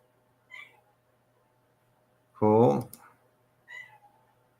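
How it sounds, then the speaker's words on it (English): A house cat meows to be let in, with two short faint meows, one near the start and one near the end, and a person's voice speaking loudly between them. "The cat wants in."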